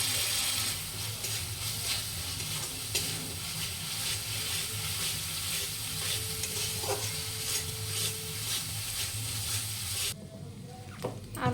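Spice mix for aloo paratha filling, with cumin powder and tomato sauce, fries in a pan with a steady low sizzle and occasional stirring scrapes, close and continuous without talk.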